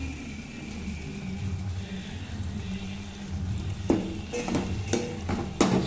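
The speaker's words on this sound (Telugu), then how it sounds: "ఇంకా చూడండి, టమాటాలు కూడా మగ్గుతున్నాయి" Tomatoes and onions frying in a pan for a brinjal curry, a steady low sizzle with stirring scrapes and a few sharp utensil clinks toward the end, fairly close.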